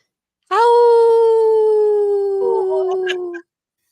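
A person imitates a wolf howl with the voice, one long, loud, steady wail of about three seconds that slowly falls in pitch and breaks into a wavering end.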